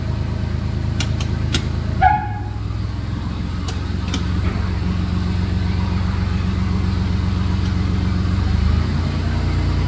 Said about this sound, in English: as soon as this thing lights, it's a super steady idle